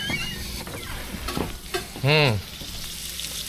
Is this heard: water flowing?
no